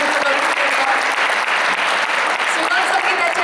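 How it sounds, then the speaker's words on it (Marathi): Loud audience applause at a live Marathi music programme, a dense, sustained clatter of many hands clapping together that fills the hall evenly throughout. "जोरदार टाळ्या"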